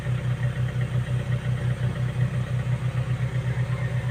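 A car engine with suspected head gasket trouble idles steadily while warming up, a close, even mid-pitched throb pulsing at a regular rhythm with no voices.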